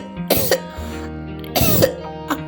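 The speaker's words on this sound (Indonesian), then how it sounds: "Aku batuk-batuk nih Pak." Two harsh, wet coughs with throat-clearing, close and loud, spaced about a second apart, from a person who is unwell, over a faint musical background.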